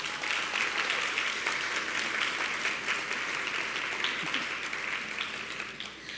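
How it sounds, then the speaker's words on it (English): A primary school graduation ceremony audience gives steady, sustained applause, a dense wash of clapping held at even loudness before tapering off slightly at the end. "I ask you to join me in giving a resounding round of applause to our"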